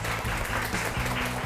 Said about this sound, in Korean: 이민호 대표님을 큰 박수로 맞이해 주세요.